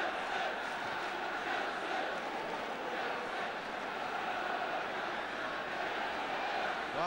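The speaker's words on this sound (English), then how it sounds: "Well, that's got the crowd going." Football crowd at Stamford Bridge in a 1976 Chelsea versus Wolves match roaring in a sustained, far-off wash of noise after a shot hits the post, steady and continuous throughout.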